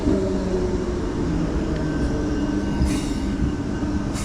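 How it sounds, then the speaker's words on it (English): A train rolls into Claisebrook station in Perth with a loud, steady rumble of wheels on rails, a faint whine and brief hissing bursts from the cars near the end. "Oh, here comes the train."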